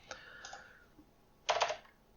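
Keys tapped on a computer keyboard while text is entered into a QML editor, with a light flurry of clicks early on and a denser, louder burst of typing near the end, heard close and alone.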